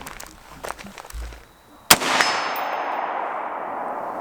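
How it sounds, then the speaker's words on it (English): A suppressed supersonic 5.56 rifle fires with a muffled report, followed a moment later by a bullet striking a steel target with a loud, sharp clang and a long ringing tail. "you can hear whenever it hits the steel, it is much louder than the gun itself is"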